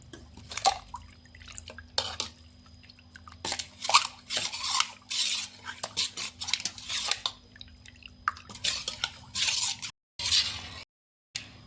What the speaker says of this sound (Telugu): ఇప్పుడు చేయితో ఉండలు లేకుండా కలుపుకోవాలి.